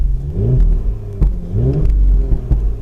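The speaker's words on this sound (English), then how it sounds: "it does like the pop crackles in the exhaust" A car engine rumbles and revs in short bursts, with sharp pops and crackles from the exhaust between throttle blips, loud and close.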